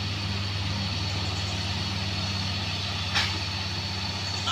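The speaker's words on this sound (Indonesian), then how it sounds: "Nampak Hino ini cukup kuat bosku. Tenaga oke." A Hino truck engine labours up a steep hill, giving a loud, steady low drone with a brief hiss of air near the end and no talk.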